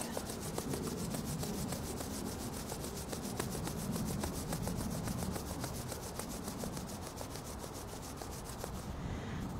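Palms rub briskly along the outside of the arm during a Golden Ball Tai Chi self-massage, making a steady, close, dry swishing that carries on throughout with no talking.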